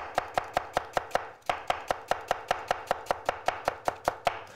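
A knife cuts a folded leek lengthwise into julienne strips, striking the board in a fast, steady series of about twenty sharp close taps with only a brief pause partway through.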